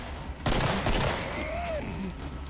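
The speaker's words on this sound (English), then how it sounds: "What are you shooting at?" Gunfire in the video game Killing Floor, with two loud broadband bursts of shooting followed by a sustained rumbling game soundscape and faint tonal effects.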